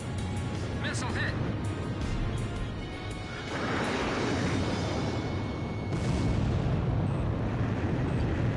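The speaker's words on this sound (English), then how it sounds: "Fox 2. Missile hit." A missile strikes its target and explodes in the jet combat game Ace Combat 5, a dense roaring blast over continuous engine rumble, sustained and loud, with radio voices talking over it.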